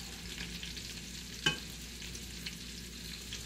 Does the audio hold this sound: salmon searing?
yes